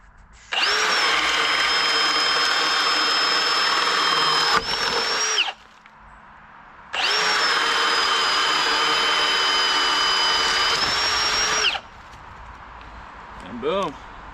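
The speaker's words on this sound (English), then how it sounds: "you can just drill out the top." A power drill bores through wooden fence boards in two long, loud, steady whining runs separated by a brief pause, close up, with a short rattle and lower motor noise between and after the bursts.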